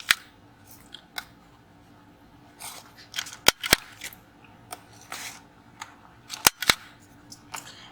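A corner rounder punch on its large setting trims the corners of a 9x5 index card collage, giving a handful of sharp, close snapping clicks spaced irregularly amid quieter handling rustles.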